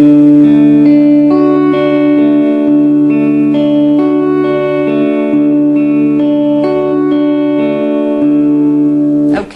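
Plucked guitar notes ring out in a steady repeating pattern, loud and close, with sustained overlapping tones and no talking.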